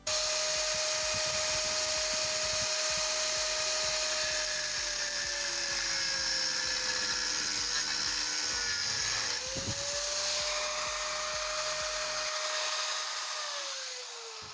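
A rotary cutting tool grinds through a stuck nut on an air conditioner blower motor, giving a loud, steady high-pitched whine that dips in pitch as it bites and keeps running almost the whole time with no talking.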